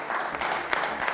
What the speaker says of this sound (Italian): facciamo un applauso per Nicole